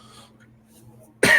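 A single loud, abrupt cough bursts out close by near the end, after a stretch of quiet room hum with a faint steady drone.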